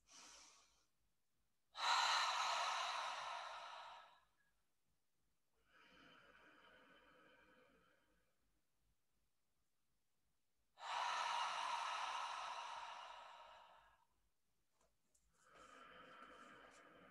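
Slow, deep breaths during a seated chair yoga flow, with three long airy inhales and exhales alternating at close range in a quiet room, each lasting a couple of seconds with pauses between.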